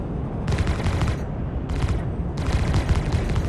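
Staggered ship cannons fire in Star Citizen Alpha 4.9 aboard the Basher, coming in three clusters of rapid thumping shots over a constant low engine rumble.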